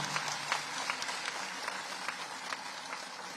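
Audience applause at a state-level teachers' award ceremony in Bhopal: a thin, fairly quiet patter of many hands, steady throughout with a few slightly louder claps standing out.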